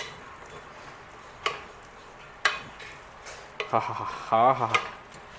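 Tomato-onion masala being sautéed in a pan for a home-cooked holiday meal, with soft sizzling under a few sharp clinks and scrapes of a spoon stirring against the pan.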